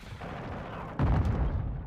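AK rifle fire in Modern Warfare 2, a rapid burst of close, heavy gunshots that starts abruptly partway through over a steady low rumble of game ambience.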